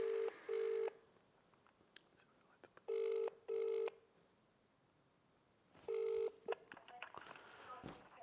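Telephone keypad tones beep in short bursts, two quick pairs and then a final pair, each a steady electronic chord separated by quiet gaps with faint line noise and some background handling at the end.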